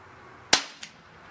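A Cybergun Jericho 941 airsoft pistol fires a single sharp, close snap followed by a fainter second click, with quiet around it.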